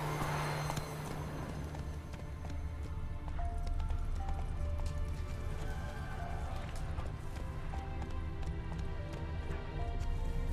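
Roach the horse gallops in The Witcher 3, a steady clip-clop of hooves running continuously over a dense game soundscape with music and ambient layers, fairly loud throughout.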